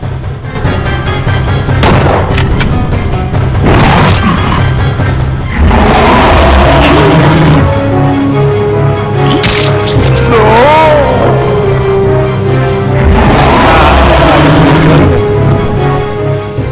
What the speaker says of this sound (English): Now, if you'll excuse me, I have to shoot this animal.